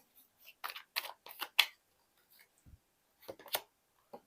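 Crisp snaps and rustles of a tarot card being drawn from the deck for a Cancer reading. Several quick, close flicks come in a cluster, then a pause, then a second short burst.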